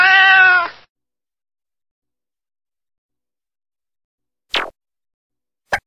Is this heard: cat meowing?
yes